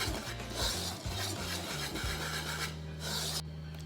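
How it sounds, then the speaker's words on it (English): Flour, baking soda and salt being whisked together in a bowl for banana bread, a close, quick, continuous rasping and scratching that ends abruptly near the end. "I'm just gonna give it a little whisk to make sure that they're all incorporated."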